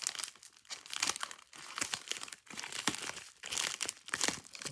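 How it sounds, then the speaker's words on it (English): Cardboard mail box from the postal service being cut and opened with small scissors, giving continuous close crinkling, tearing and crunching with no pauses. "So we're going to go ahead and get into this box."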